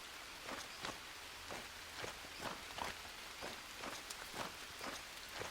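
Rain pattering in the VR survival game Green Hell VR, a soft hiss with regular light taps at roughly half-second intervals, quiet and close, with no one speaking.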